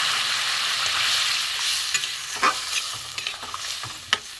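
Milk poured into a pan of frying pointed gourd and potato sizzles steadily while a spoon stirs and scrapes, with a few sharp clinks near the end and no voices.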